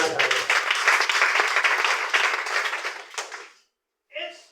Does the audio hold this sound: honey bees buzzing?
no